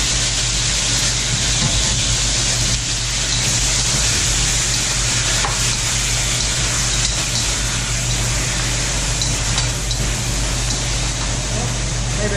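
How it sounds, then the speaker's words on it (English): Steady, dense hiss of chicken sizzling in a hot pan, continuous and fairly loud throughout with a low hum underneath. "Hear that sizzle?"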